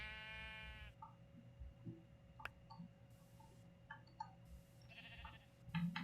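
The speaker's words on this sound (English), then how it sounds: "let me just get the sheep out of here," Minecraft sheep bleat in short, nasal bursts, a few separate calls near the start and end, over a quiet game background with faint ticking.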